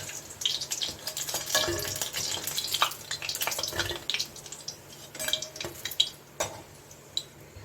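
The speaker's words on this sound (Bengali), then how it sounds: "বড়াগুলোকে আমি এই যে লালচে লালচে করে ভেজে নেব" Green banana fritters crackle and spit in hot oil, with irregular popping bursts and light bubbling at moderate volume.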